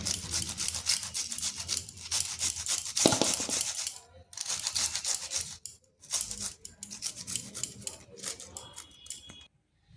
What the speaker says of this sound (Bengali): ফুলকপির এই যে ডাটাটা, এই ডাটাটা এটাও গ্রেড করে নিচ্ছি